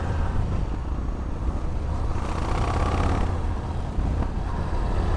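A 2005 Yamaha MT-01 motorcycle rumbles at low revs below 2000 rpm, a steady, deep engine drone, close and continuous, with some wind noise and no talk.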